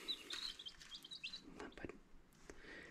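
Soft, high-pitched peeping and chirping from ten small chicks, several short calls overlapping, faint and fairly close.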